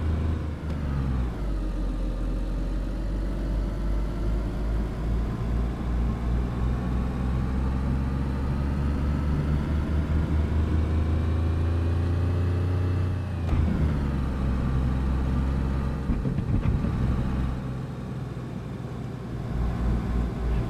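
A car driving in DayZ, its engine droning and revving steadily at close range, with pitch rising as it accelerates and shifting around gear changes, running continuously without talk.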